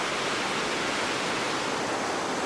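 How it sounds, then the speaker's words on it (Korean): Dense, loud, unbroken roar of a two-tier waterfall in Miryang swollen after heavy rain, a thick wash of falling water filling the whole span with no pauses or voices. "전망대에 서서 우렁찬 물소리와 세찬 물보라를 맞으면"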